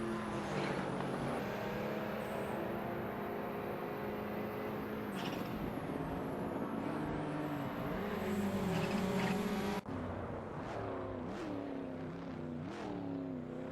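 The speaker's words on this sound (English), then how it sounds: "Pikin Joyer is driving a BMW and currently in 17th position, trailing behind Wachu77 in 16th place." AI-driven sportscars, including a BMW, race around Forli circuit in a racing video game, with a continuous high engine drone and gear changes rising and falling, and cars sweeping past at times, steady and mid-distance.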